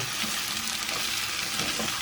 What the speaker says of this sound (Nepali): काटेर राखेको आलु र मसरुमलाई एकैचोटि राखेर मजाले भुट्नु होला